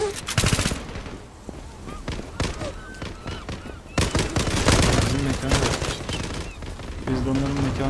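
A Tommy gun firing in the online shooter Zula, on game streets, rapid bursts of automatic fire in several runs, loud and close, with other game sounds and a voice talking in places.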